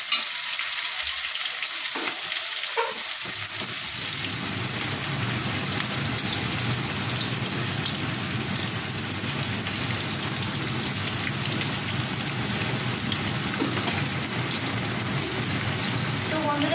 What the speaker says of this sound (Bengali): পেঁয়াজ ভাজা হোক